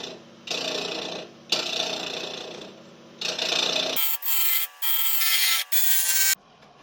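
A tool hollows out a small wooden Halloween ghost from the centre, grinding and rasping in about six separate bursts of varying length with short pauses between them.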